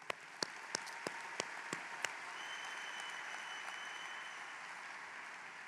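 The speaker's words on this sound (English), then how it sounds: "That alone deserves recognition and applause." A graduation audience at Fort Zumwalt North High School applauds, a soft steady wash of clapping from a large crowd with a few distinct nearby claps at the start, faint and distant.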